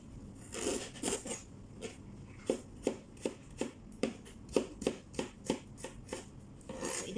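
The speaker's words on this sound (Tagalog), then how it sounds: "So, slice na rin natin yung ating ginger." A knife slices ginger on a cutting board in a home kitchen, a series of crisp, evenly spaced chops and taps, close and fairly quiet, with no voices.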